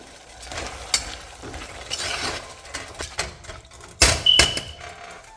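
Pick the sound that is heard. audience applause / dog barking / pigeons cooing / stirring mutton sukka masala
stirring mutton sukka masala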